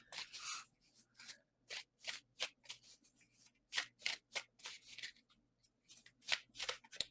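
Tarot cards being shuffled by hand: a long run of crisp, riffling bursts with short pauses between them, close and clear, over a faint steady hum and with no talking.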